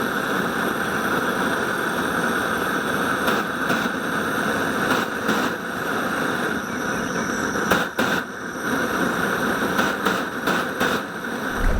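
A Saker propane torch burns with a steady, even roar of flame, continuous and close throughout with a few brief clicks and bumps, and no talking.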